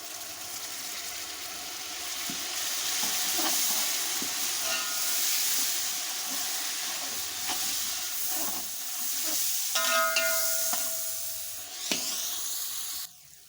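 Masala with tomatoes fries in a pot, giving a steady hissing sizzle with repeated scraping and clanking stir strokes against the metal, ending in a sharp scrape.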